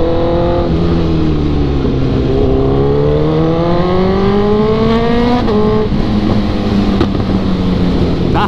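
Kawasaki ZX 636 sport motorcycle accelerating hard on an early-morning group ride, engine note climbing steadily through the gears with brief shift breaks, loud and close with continuous road and wind roar.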